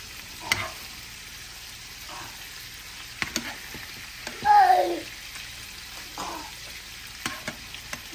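Food sizzling and frying in a pan, a faint crackle through most of the stretch that swells into a louder, brief hiss near the middle, with scattered small clinks and stirring sounds.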